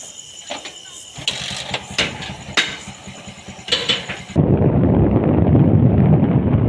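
Motorcycle on the move, carrying two riders: wind buffeting and scattered thumps give way after about four seconds to a loud, steady engine and road roar with rushing air, close to the microphone throughout.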